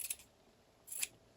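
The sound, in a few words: scissors trimming fabric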